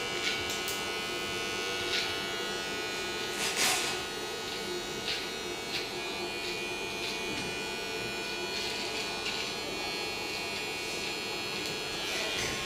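Electric clippers buzz steadily while shaping a beard, a close, continuous hum with faint brushing sounds as the blade passes over the skin; a voice speaks briefly in the background.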